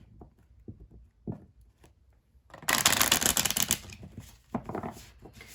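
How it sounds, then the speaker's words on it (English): A tarot deck is handled with a few soft taps, then gives a loud, close riffle shuffle lasting about two seconds, followed by quieter card slides and flicks as a card is drawn, with no speech. "I'm going to pull another card for that."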